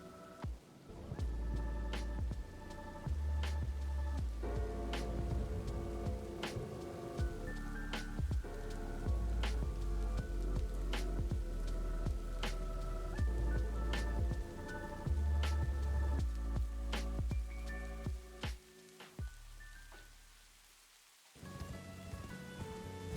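Steady rain falls in the Elden Ring video game world beneath the Erdtree's light, a soft continuous patter laid under ambient music and scattered sharper drops, fading briefly near the end before returning.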